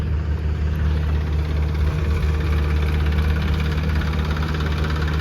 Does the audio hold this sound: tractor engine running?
yes